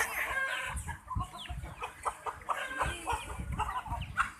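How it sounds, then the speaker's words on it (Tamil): Several chickens cluck busily and continuously up close, with overlapping calls and occasional louder squawks amid scratching and rustling. "எல்லா கோழியுமே இங்கே வந்திருக்கு"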